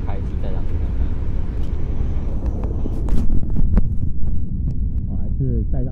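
Inside a high-speed train, the low, steady roar of the carriage comes through unpowered Bose QC35 noise-cancelling headphones, droning continuously while someone speaks over it.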